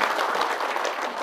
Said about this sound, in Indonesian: Tepuk tangan buat teman-teman bekerja di Hong Kong